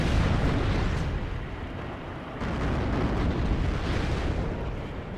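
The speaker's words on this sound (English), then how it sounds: "You see tanks going off there. Firing off at the infantry there." Tank fire and explosions in the war strategy game WARNO, a dense continuous roar of booming blasts and rumbling battle noise, loud and sustained throughout.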